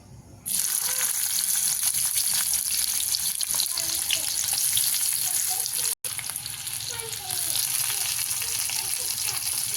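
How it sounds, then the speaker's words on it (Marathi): Chopped onion dropped into hot oil in a pan for a dry chicken dish, sizzling loudly and steadily up close, with a brief break partway through and occasional stirring. "आता आपण ह्याच्यात कांदा टाकून घेऊया"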